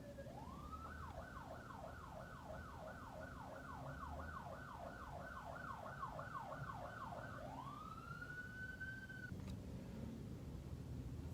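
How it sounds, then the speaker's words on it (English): A Los Angeles fire department ambulance siren wailing in a rapid rising-and-falling yelp that shifts into a long steady wail before stopping, distant and faint over low street rumble. "It turns out an LA fire department ambulance just passed right by"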